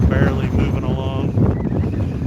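Strong gusty wind buffets the microphone at an RC plane flying field, a loud, close rumbling roar across the whole moment, with a voice talking over it.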